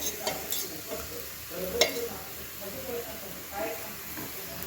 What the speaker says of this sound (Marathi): परोठा भाजताना तेलाचाच वापर करायचा आहे, तूप वगैरे अजिबात वापरायचं नाही आहे.